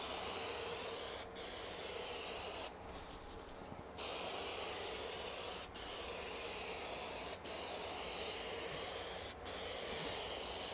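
Adhesive glue sprayed onto fabric Thinsulate insulation inside an Astro van build, a steady close hiss broken by several short gaps and one longer pause before spraying resumes.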